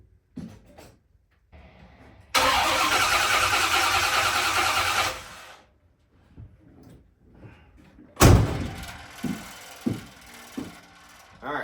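A 1979 El Camino engine cranks after a new carburetor install, a loud sustained burst of roughly three seconds, followed by quieter clunks and a sharp bang, with scattered knocks and faint talk around it.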